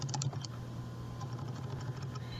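Fingers tap a computer keyboard in a quick burst of close key clicks, then lighter scattered presses over a steady low electrical hum, with no talk.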